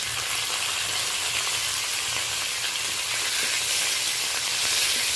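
Panch phoron and slit green chillies sizzle in hot oil with a steady, loud, close hiss and crackle that continues without a break.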